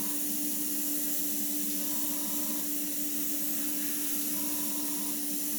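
An airbrush hisses steadily in one unbroken spray of air and paint onto a 1/72 Airfix Vulcan model, close and even in level from start to end.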